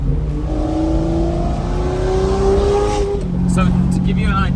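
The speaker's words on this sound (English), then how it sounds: "it's like a real live active motor show on the road with some of the best cars in the world" Cars on the road during Monterey Car Week pass close and loud, one engine revving up in a rising whine before another vehicle rumbles through, with voices under the traffic noise.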